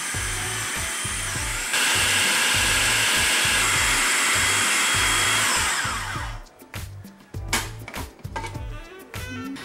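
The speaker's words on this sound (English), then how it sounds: "So close your food processor and process until smooth." A food processor whirs loudly as it blends chickpeas, lemon, cumin seeds and salt into cilantro jalapeno hummus, a steady motor roar with rhythmic thumping that cuts off after about six seconds, leaving clattering and scraping.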